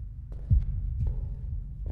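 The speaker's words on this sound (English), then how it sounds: "well, this heartbeat." Slow, heavy heartbeat thumps in the horror video game Deppart, a few deep throbbing pulses about half a second apart over a low hum, close and alone.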